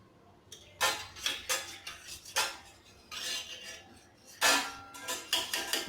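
A spoon mixes Szechuan sauce into a Khakhra pizza topping in a bowl, making repeated scraping, clinking strokes in uneven bursts, close and fairly clear, with no talking.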